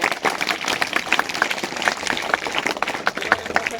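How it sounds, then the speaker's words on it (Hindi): An audience claps for a prize winner at a school general knowledge and sports competition, a dense, even patter of many hands that holds steady for several seconds at close range. "आयने के लिए बहुत बहुत तालियां"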